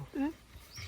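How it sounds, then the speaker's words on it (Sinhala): A pet dog gives one short, close whimper in a home garden where monkeys had jumped in, followed by faint background noise. "මේ අපේ බල්ලා."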